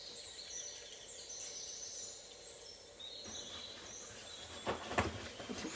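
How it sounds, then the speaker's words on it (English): Faint outdoor birdsong with scattered high chirps and calls along a gravel path, soft and distant over a quiet background, a few brighter notes standing out near the end. "Listening to the birds as you slowly wander down the path."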